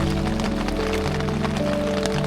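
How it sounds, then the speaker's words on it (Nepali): Dense, steady hiss of heavy monsoon rain pattering close by at Phewa Lake, with a constant low hum running underneath and no voices. "अब चाहिँ असारै झरी सुरु भयो जस्तो छ नि।"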